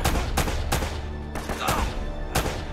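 Gunfire in Uncharted rings out as a rapid series of loud, close shots with short, uneven gaps between bursts and no talking over them.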